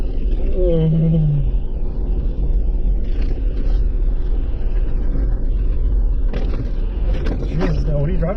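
A Jeep Gladiator barrels along an off-road forest trail, its low engine and road rumble steady and loud beneath people talking inside the cab.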